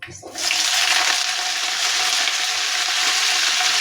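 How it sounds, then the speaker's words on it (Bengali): Washed cauliflower dropped into hot oil tempered with panch phoron, bursting into a loud, continuous hissing sizzle that holds steady after the first moment. "ধুয়ে রাখা ফুলকপিগুলো দিয়ে দিব"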